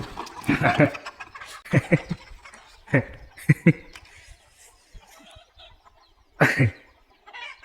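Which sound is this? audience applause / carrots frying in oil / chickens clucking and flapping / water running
chickens clucking and flapping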